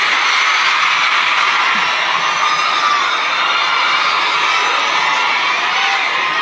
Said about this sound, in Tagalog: Dahil kayo ay sumisigaw ng Duterte, suspended na kayo lahat bukas.